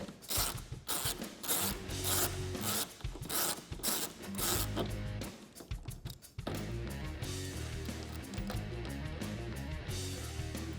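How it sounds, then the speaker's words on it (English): A 4mm Allen socket backs out the center bolt of a gloss black Wicker Bill add-on rear spoiler on a 2015-2021 Dodge Charger, giving close ratcheting, grinding mechanical clicks and rubbing that run steadily throughout. "I have a 4mm Allen socket here. Go ahead and remove that bolt."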